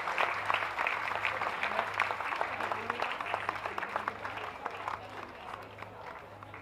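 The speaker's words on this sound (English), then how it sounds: "Please give everybody else a big hand as they're leaving the ring" Audience clapping fills the ring at the Windsor Championship Dog Show gundog group judging, a steady, dense round of applause that fades slightly toward the end, with a low electrical hum underneath.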